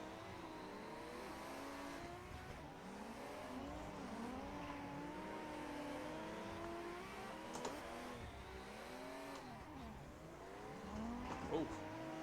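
Simulated drift car in Assetto Corsa, engine revving hard with rising and falling pitch sweeps, tires squealing through slides, continuous and loud with a brief sharper burst near the end.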